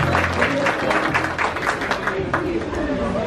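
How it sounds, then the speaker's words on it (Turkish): Wedding guests applaud at a civil marriage ceremony, a steady burst of clapping from a crowd close by, continuous for several seconds with some voices mixed in. "Alkışlarım."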